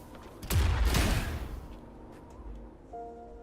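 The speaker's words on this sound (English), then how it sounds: "Perhaps we can create an opening in this disk with an explosion." A loud explosion in a video game blasts an opening in a disk using Tacitite fulminate found on a cliff: a sharp boom followed by a crackling, rumbling roar that fades over about a second, then a faint tone rings out.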